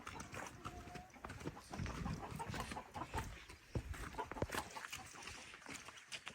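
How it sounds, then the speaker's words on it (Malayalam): Chickens at a farm in Abha give scattered soft clucks and calls at moderate distance, mixed with rustling and occasional knocks, fairly quiet overall. "കോഴിയുണ്ട്"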